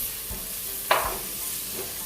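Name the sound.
garlic and tomatoes sautéing in pan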